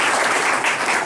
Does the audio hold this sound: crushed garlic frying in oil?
no